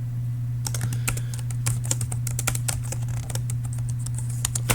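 Fast typing on a computer keyboard during programming work, irregular bursts of close key clicks over a steady low electrical hum, with no voice.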